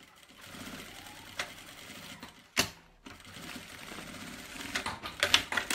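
A sewing machine stitches a backpack's bag lining in steady rapid runs, with brief pauses and a few sharper clacks, close and alone.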